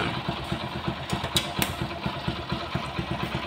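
Steady close idle of a Hero HF Deluxe motorcycle running on petrol, a loud, rhythmic low chugging with light clatter and a couple of brief sharp clicks midway.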